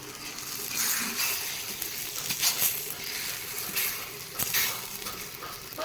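Parathas sizzle and fry in ghee in a pan, a steady crackling hiss with occasional soft scrapes and clinks of a utensil, close and fairly loud with no talking.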